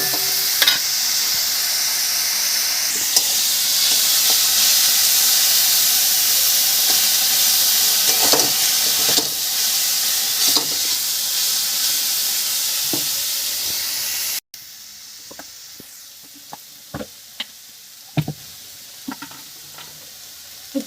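Onions sizzle and hiss steadily in a hot pan for a Bengali-style home chicken curry, with occasional stirring scrapes; the frying noise drops sharply partway through, leaving quieter crackles and a few clicks.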